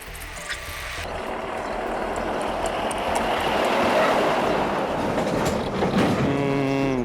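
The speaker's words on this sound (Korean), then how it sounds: "트럭들이 마을을 자주 오고 가면서 발생시키는 진동과 소음도 문제지만" Heavy trucks from a nearby reclamation construction site rumble along a village road and over a bump. A loud, steady low rumble builds with clattering rattles and carries on without talk.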